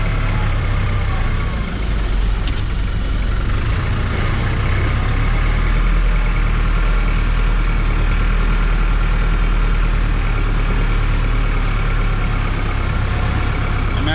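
A tractor engine rumbles in four-wheel drive, a loud, steady low idle with no talk, running continuously throughout.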